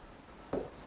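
Chalk or marker strokes on a board during a chemistry lecture on structural isomers, a single short scratchy burst of writing partway through, fairly close, against a quiet room.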